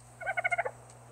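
A dodo in the video game Ark Survival Evolved gives a rapid gobbling call of about seven quick pulses in one short burst, close and clear over a faint steady hum.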